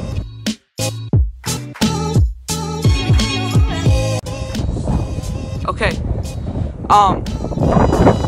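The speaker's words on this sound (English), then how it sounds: "it is just windy as heck" Strong wind buffets the microphone in heavy, roaring gusts that come and go. A voice speaks briefly.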